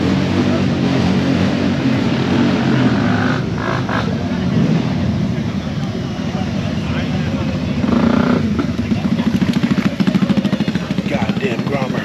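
Many motorcycles idle and rumble together at a superbike event, a continuous loud engine drone with occasional revs swelling near and far, under intermittent talk.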